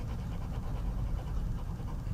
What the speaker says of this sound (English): Speed the inhalation and exhalation process up so you're panting.